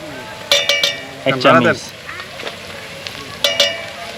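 Chopped onion sizzles in soybean oil over an outdoor village cooking fire, a steady hiss broken by metallic clinks of a utensil against the pot, with people talking intermittently over it.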